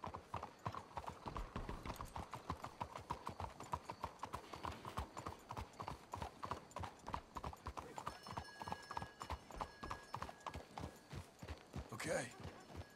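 Horses in Red Dead Redemption 2 clip-clop along at a steady, rhythmic gait, hoofbeats continuous and evenly spaced, with faint voices now and then beneath them.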